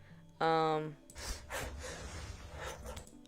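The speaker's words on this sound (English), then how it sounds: "Audio's not matching up with the dog panting" A dog in an AI-generated video pants: a brief voiced, gasp-like whine comes first, then a run of quick, breathy pants at close range, steady and fairly quiet.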